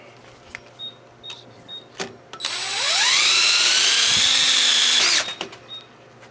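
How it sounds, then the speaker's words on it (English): A power drill winds up to a high whine and grinds steadily through a brass cartridge casing for about three seconds before stopping, with scattered clicks and handling noises around it. "I'm going to just try to see if I can drill right through there"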